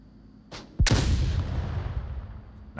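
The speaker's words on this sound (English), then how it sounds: "The C4 detonation called for" A C4 charge detonating in the Onward VR shooter game: a short click, then a sudden loud deep blast that rumbles and slowly decays over a couple of seconds, with no talk.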